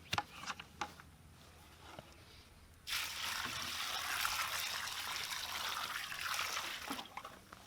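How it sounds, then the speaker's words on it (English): Water poured over campfire wood: scattered faint drips and taps at first, then a sudden steady splashing pour that runs close and continuous to the end. "Put some more water on it."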